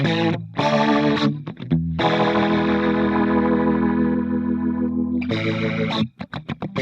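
An electric guitar runs through the rotary speaker effect of a Fractal Audio VP4 pedal, with sustained chords swirling and warbling in a chorus-like wash, broken by short strummed stabs at the start and end.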